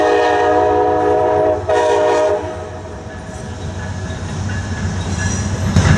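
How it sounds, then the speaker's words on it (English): A freight train rumbles past nearby on a railroad track, steady low roar of cars on the track with a horn-like tonal blare early on, continuing loud throughout. "You might find these trains a little annoying."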